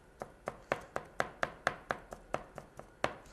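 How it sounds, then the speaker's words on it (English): A knife chops oiled garlic on a cutting board in about a dozen crisp, evenly spaced strokes, each one close and distinct against a quiet kitchen background. "you can take the garlic now and cut that, and the garlic won't stick to the knife"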